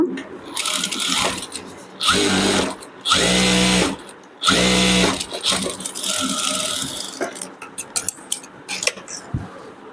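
A sewing machine stitches a child's petticoat in several loud, close bursts of rapid mechanical whirring, with short pauses and clicks of fabric handling between runs.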